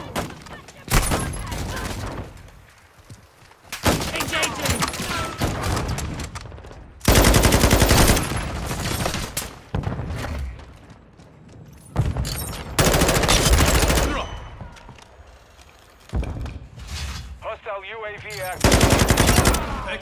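Loud bursts of automatic gunfire from a Call of Duty Modern Warfare/Warzone match, coming in several separate volleys with brief lulls between them, close and dense with bright, crackling shots.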